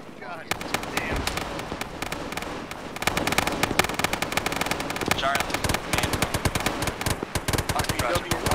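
Gunfire in the military video game Arma 3, with dense, continuous bursts of automatic fire and sharp single shots rattling loudly throughout, mixed with distant booms, while people talk over it.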